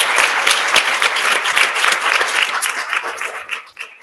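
A crowd claps steadily and loudly at a city council meeting, a dense wash of applause that thins out and fades in the final second.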